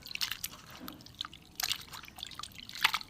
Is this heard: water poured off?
yes